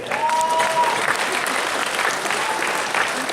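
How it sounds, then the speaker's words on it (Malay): Sustained audience applause at a corporate gathering, dense and loud throughout with crowd noise, a brief tonal whistle-like line early on. "Ladies and gentlemen, boleh tak kita berikan tepukan khas?"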